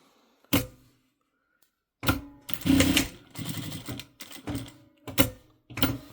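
A sewing machine stitches a hem on a fabric babywearing bag, running in short close bursts of rapid mechanical whirring and clatter separated by brief pauses, with no voices.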